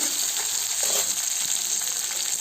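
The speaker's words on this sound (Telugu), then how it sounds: "నేను బీన్స్ యాడ్ చేసుకొని కొద్దిగా ఫ్రై అయ్యాక" Green beans sizzling in oil in a pan while shavige upma is cooked, a dense, steady frying hiss throughout.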